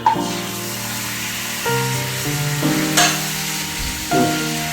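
Chicken pieces dropped into melted butter in a pan for a butter chicken fry, giving a steady sizzle that swells briefly with each addition, with a faint musical backing underneath.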